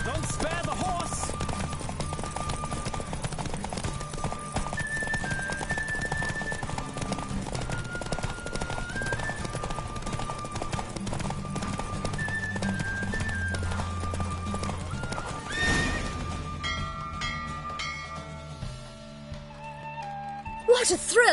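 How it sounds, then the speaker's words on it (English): Rapid rhythmic hoofbeats of a galloping horse in a Witcher horse race, continuous and close, with game music tones layered over it. "Don't spare the horse!"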